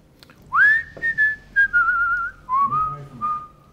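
A person whistles a short, sliding melodic phrase during a World of Warcraft gaming session, clear and close with a few rising and falling notes and no speech over it.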